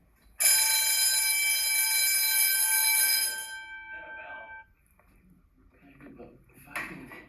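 A 1970s middle school fire alarm blares a loud, steady electronic tone for about three seconds before cutting off, followed by quieter rattling and shuffling in a large hallway.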